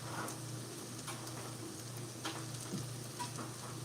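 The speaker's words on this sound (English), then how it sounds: "Let's give our marshmallows a quick stir here." Melting marshmallows are stirred in a pot over low heat, a steady soft sizzle and bubbling with faint scraping stir sounds and occasional ticks, close and continuous, with no talking.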